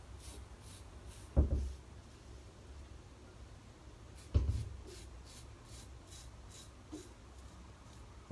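A razor scrapes over the back of a head lathered with Taconic Tequila Lime shaving cream, in quiet, evenly spaced short strokes broken by a couple of louder knocks.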